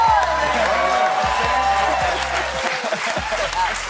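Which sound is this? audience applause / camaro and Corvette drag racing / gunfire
audience applause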